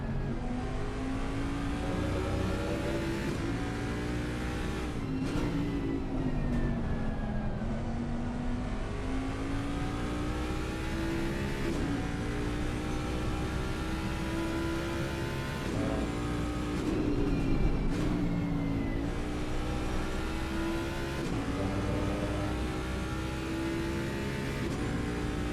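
A Mustang race car engine heard on board in a sim racing game at the Zolder circuit, revving continuously up and down through gearshifts for a long, loud, unbroken stretch with no talk.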